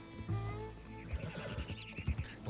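Horse neighing and hooves in the Red Dead Redemption 2 video game: a whinny near the start, then a run of stamping, clopping hoof hits over a steady game backdrop, close and fairly loud.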